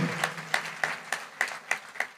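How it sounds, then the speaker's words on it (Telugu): A church congregation clapping together in a steady unison beat, about eight crisp claps with slight reverb, no voices over them. "నమ్మితే గట్టిగా చప్పట్లు కొట్టి దేవుని మహింపరచు"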